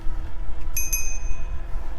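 A GoPowerBike GoVelo commuter ebike's bicycle bell rings twice in quick succession, bright and close, over a low steady background rumble.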